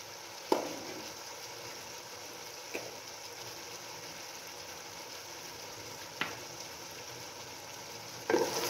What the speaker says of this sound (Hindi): इनको अच्छे तरीके से हम मिक्स कर लेते हैं